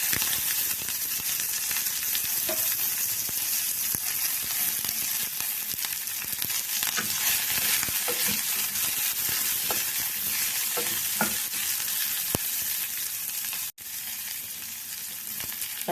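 Chopped onion and curry leaves sizzle steadily with urad dal in hot oil for a vellai poosani kootu, a dense continuous frying hiss with faint stirring scrapes, close and loud, no talking.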